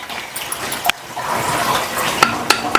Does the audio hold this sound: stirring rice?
yes